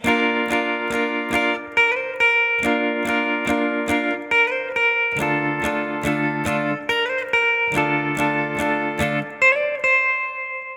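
A guitar strums the chord progression of a song with steady repeated strokes and occasional slides between chords, close up and clear, with no voices.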